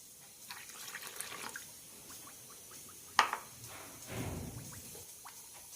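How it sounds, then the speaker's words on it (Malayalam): Water poured into a bowl of puttu flour and milk batter gives a soft trickle and splash, with one sharp clink and a brief gurgling pour, quiet and close, without speech. "ഇനി 1/2 കപ്പ് വെള്ളം കൂടി ചേർക്കാം."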